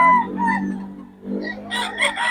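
Three-year-old fighting roosters crowing at close range, two or three loud harmonic crows in quick succession, the last ones bright and strained, with no talking over them.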